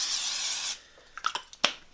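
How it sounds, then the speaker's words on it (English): A steady hissing of cooking spray onto donut tops lasts under a second, then stops, followed by a few faint clicks and light taps nearby. "I'm also going to spray the tops of the donuts lightly"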